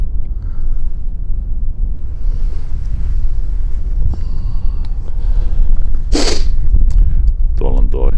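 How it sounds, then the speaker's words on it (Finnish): Strong wind roars across an open hilltop by a row of hay bales, steady buffeting gusts hitting the microphone with a loud rumble throughout, rising briefly to a harsher blast near the end. "tuolta sen verran kova tuuli, että peittää kaikki lähestymisäänet"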